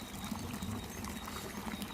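Water from dolphin figures at a kids' pool at a resort in Antalya, Turkey, splashes and trickles in a steady, continuous pour of moderate loudness.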